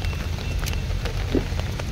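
Steady rain falls outside a used car lot in Guwahati, a continuous dense hiss over a low rumble, with no voices.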